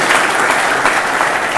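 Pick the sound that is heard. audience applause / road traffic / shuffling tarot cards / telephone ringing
audience applause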